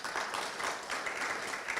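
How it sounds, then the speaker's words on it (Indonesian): A church congregation at a Sunday morning service in Cirebon applauds together, a dense, continuous roomful of clapping that holds at even strength throughout the short moment. "Berikan tepuk tangan untuk Tuhan dulu."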